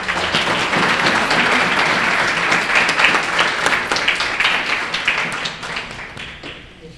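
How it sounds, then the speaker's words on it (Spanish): An audience at an art salon ceremony applauds with dense, continuous clapping that stays loud for several seconds, then thins out and fades toward the end. "Termino con un merecido aplauso para todos ustedes."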